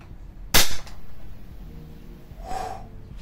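A single sharp report from an HFC VSR11 airsoft sniper rifle fired during a velocity test, loud and close, followed by a softer hiss-like burst a couple of seconds later.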